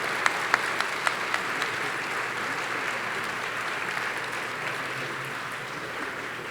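A room full of attendees at a chamber of commerce annual meeting and awards event claps steadily, the applause close and continuous, with a few sharper individual claps standing out at the start.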